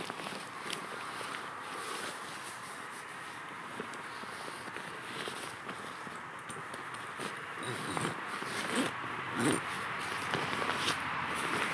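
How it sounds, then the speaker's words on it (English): Zip on a military sleep system bivvy bag being pulled shut, soft scraping runs under steady ambient noise, quiet and close with faint rustling. "But it still zips up okay"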